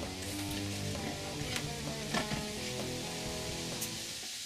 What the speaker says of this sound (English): I can hear that sizzling already